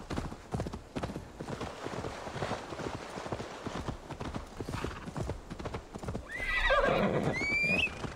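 Horse in Assassin's Creed Valhalla: rhythmic clip-clopping hoofbeats for several seconds, then a loud, close whinny rising and wavering near the end over the continuing steps.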